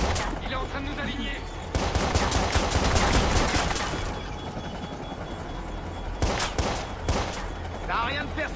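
Gunfire bursts from the Watch Dogs video game, rapid volleys of shots rattling in two clusters with quieter stretches between, mixed with game sound and background voices.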